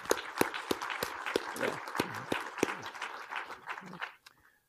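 A small audience at an academic talk gives applause of sparse, evenly spaced claps, fairly faint and mixed with murmured talk, then dies away into quiet.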